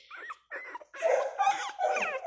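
One-week-old puppies whimper and squeak in a series of short, high, whiny cries, starting with a few separate bursts and then running into longer, louder overlapping whines close to the microphone.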